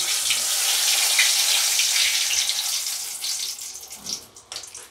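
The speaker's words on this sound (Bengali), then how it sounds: "এবারে আমি এখানে তেলের মধ্যে লঙ্কা আর 3টে তেজপাতা দিচ্ছি।" Green chili and three bay leaves hit hot oil in a pan, producing a loud, steady, close sizzle that hisses continuously and then gradually fades toward the end.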